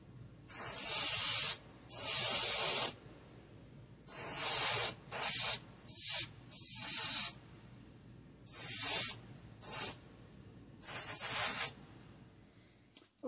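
An airbrush lays a light coat of yellow paint, heard as about ten short bursts of close, steady hiss, each lasting roughly half a second to a second, separated by quiet pauses with faint background noise.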